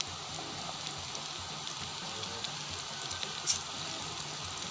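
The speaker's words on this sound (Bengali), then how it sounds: "ভালোভাবে ভেজে নেব" Egg pitha frying in medium-hot oil gives a steady, close, even sizzle and crackle throughout, with no talking.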